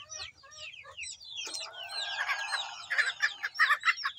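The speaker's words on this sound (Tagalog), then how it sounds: "samahan niyo ako sa huling pagpapakain ng ating alagang manok" Backyard chickens, a flock of about sixty, clucking and calling at feeding time, a busy overlapping chorus of short squawks and chatter that grows louder and denser halfway through.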